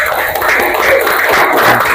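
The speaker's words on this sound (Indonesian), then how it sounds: "Tepuk tangan buat kita semua." A dense burst of clapping from a class of children, loud and steady for a couple of seconds.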